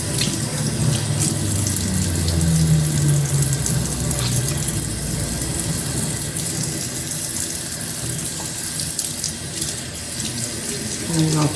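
Steady tap water runs over raw pork chops being rinsed at a sink, a continuous splashing rush that stays loud and close throughout with no speech.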